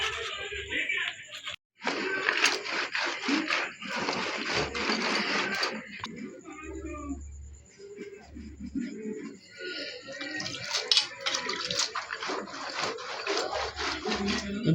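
Rugda (phutka) mushrooms rubbed by hand to loosen soil, close scratchy gritty rasping in continuous bursts with brief pauses.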